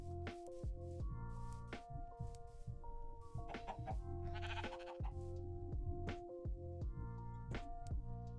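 Sheep in Minecraft bleat in a steady run of repeated, fairly loud baas with strong harmonic tones, heard alone with no talking across the whole stretch.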